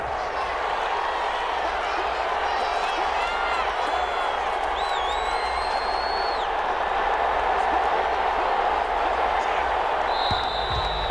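Stadium crowd noise in the Madden 21 football game, Falcons versus Chiefs: a steady, loud roar of a large crowd with faint whistles and cheers rising over it, under a commentator's voice.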